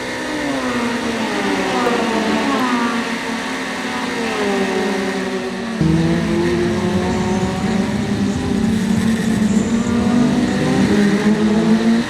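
Continental class race cars in a June Sprints race roar past on the track, engines loud and close with shifting pitch as they rev and pass, one car dark black with slightly wider wheels; no talk.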